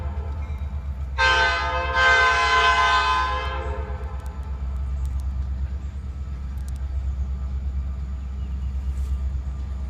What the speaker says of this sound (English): But I'm gonna shut up and watch the train come.